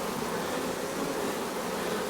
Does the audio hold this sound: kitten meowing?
no